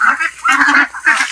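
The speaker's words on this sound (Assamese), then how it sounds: "চ' এইকেইটা হাঁহ" Domestic ducks give a quick run of loud, close, honking quacks, three nasal bursts in just over a second.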